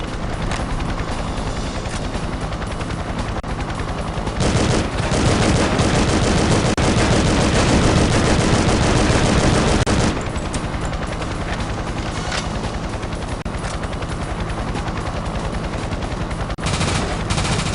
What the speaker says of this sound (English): he will shoot rockets at you and his machine guns at you